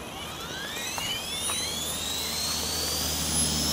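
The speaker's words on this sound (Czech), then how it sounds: "Nám něco řekni o svým prvním vrtulníku" A Trex 450 Pro radio-controlled model helicopter in flight, giving a steady high-pitched whine with rising and shifting rotor and motor tones over a low background rumble, fairly loud and continuous throughout.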